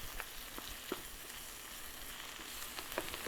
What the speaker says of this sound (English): So right now, eggs cooking.